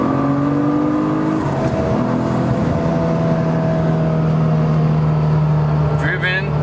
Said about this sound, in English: Going 80 miles an hour already in third gear.